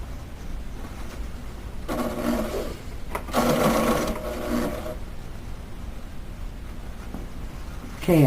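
A sewing machine stitching a fabric beret runs in two short bursts, the second a little louder and longer, over a steady low background hum with quiet pauses between runs.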